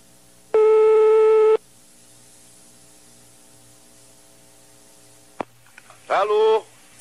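Telephone ringback tone: one steady electronic tone lasting about a second, then a quiet line, a click and a brief clipped voice answering near the end.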